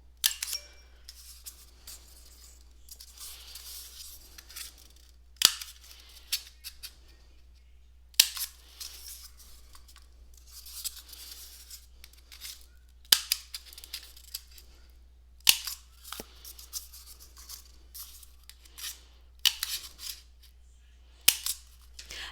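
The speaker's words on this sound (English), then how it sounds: "when I punch the holes that I go halfway up the cup" A hand-held hole punch bites through the side of a plastic cup, leaving a row of holes. Sharp, isolated clicks and snaps come at irregular intervals, with near-silence between them and a few faint rustles.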